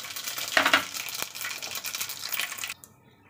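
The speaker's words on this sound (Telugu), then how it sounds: "ఈ తాలింపు దినుసులు చిటపటలాడేంత వరకు వేయించుకోవాలి" Tempering spices and crushed garlic splutter and sizzle in hot oil for a cucumber tomato curry, a close, steady crackle with stirring bursts that stops abruptly near the end.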